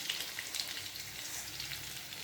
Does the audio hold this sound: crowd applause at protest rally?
no